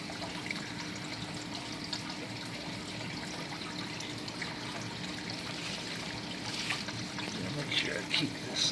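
Water flowing and trickling through a sand, silt and clay mix, a steady soft pouring wash with some louder splashes near the end, and a voice speaking over it.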